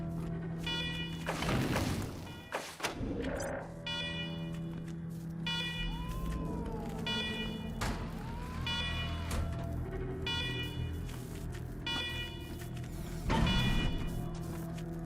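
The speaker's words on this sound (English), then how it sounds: "let's talk after you kill the alarms. I could hardly hear myself think." Repeating electronic alarm tones from the video game Wasteland 3 pulse steadily over a constant mechanical hum, with rising and falling siren sweeps in the middle and a few louder bursts.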